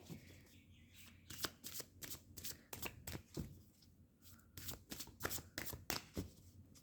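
Tarot cards being shuffled by hand make a close, quiet series of quick riffling and slapping bursts that repeat in an uneven rhythm with short pauses between.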